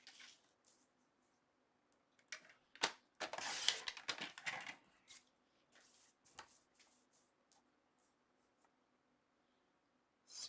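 Scoring tool pressed along card stock to crease a folio at the half-inch mark, a faint scraping and rubbing that comes in scattered short strokes with a louder burst of scratching in the middle.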